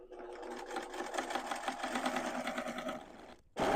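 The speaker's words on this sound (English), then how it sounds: "You're going to stitch all the way down with the longest stitch length that there is." A sewing machine runs a long gathering stitch at the longest stitch length, chattering in a fast steady rhythm up close before stopping briefly, then starting again.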